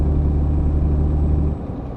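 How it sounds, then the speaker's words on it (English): A deep, steady truck engine rumble in On The Road: Truck Simulator drones loudly with a low hum, easing slightly in intensity near the end. "I've seen like they've actually changed the engine sound of the trucks as well"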